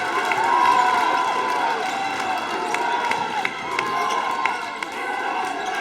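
High school boys' basketball crowd in a gymnasium, a steady roar of cheering voices with sneaker squeaks and short sharp accents rising through the din, moderately loud and reverberant.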